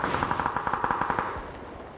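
Rapid automatic gunfire in PUBG on the snowy Vikendi map, a fast steady burst of shots rattling for about a second and a half before trailing off.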